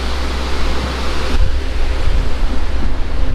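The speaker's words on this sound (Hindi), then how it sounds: "तो ये देखो कोई नदी आती हुई है, ये गौरी गंगा," Gauri Ganga, a Himalayan river in the Johar Valley of Uttarakhand, rushes below a broken old bridge in a steady, loud, broadband roar with wind buffeting the microphone.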